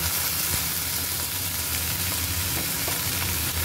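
Slit green chillies sizzling in hot oil for a Bengali mustard-flower paste dish, stirred lightly; a dense, even crackling hiss fills the whole short stretch, loud and close, with no talk.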